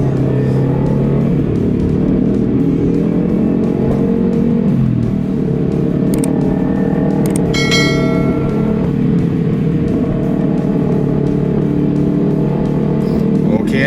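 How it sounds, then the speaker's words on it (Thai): A Yamaha R15 motorcycle with a loud exhaust drones steadily up close while riding, its engine note rising and falling in revs, and someone talks over it. "R15 นี่ท่อลั่น มากเลยครับ"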